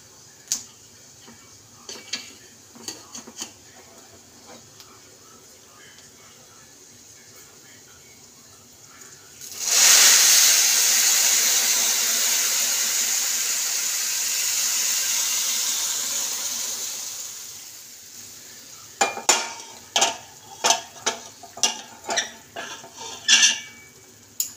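Hot milk pours into a pan of fried nuts, a sudden loud rushing hiss that swells and holds for several seconds before fading, framed by clinks of utensils against the pan before and after.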